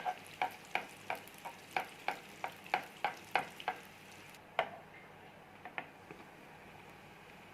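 Beignet-style pastries fry in oil under a steady close hiss, with a regular run of sharp clicks or taps about three per second that thins out to a few scattered ticks near the end.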